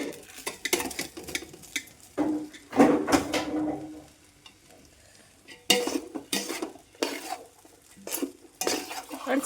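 A spoon scrapes and clatters against a pot while chicken biryani is stirred, in irregular bursts of metallic scraping separated by short quiet gaps, with a faint sizzle underneath.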